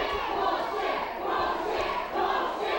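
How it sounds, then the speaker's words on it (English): Wrestling crowd at an NWA event shouting and roaring together, a steady loud wash of many voices with swelling peaks throughout. "The crowd is getting on the case"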